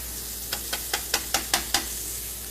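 Browning cutlets sizzle in a hot pan while a utensil scrapes and turns them in a quick series of soft, regular strokes over a steady low frying hiss.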